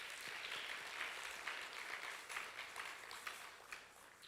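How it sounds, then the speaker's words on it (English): Colleagues at a University of Fort Hare UNESCO colloquium give a steady round of applause, heard faint and somewhat distant as an even wash of clapping with no talk over it. "Another round of applause, colleagues."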